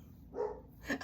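A dog barks indoors, with one longer bark in the middle followed by a sharper, louder bark near the end, heard alone without talk.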